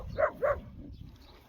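A Kangal dog gives two quick, fairly close barks or yips in succession, followed by a quieter moment of low background rumble and faint movement.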